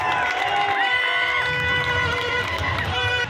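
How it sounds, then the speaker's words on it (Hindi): Crowd at a trade fair cheering and clapping loudly for a celebrity's introduction, a dense continuous roar with shouting voices and whistle-like tones over steady noise throughout. "जोरदार तालियां।"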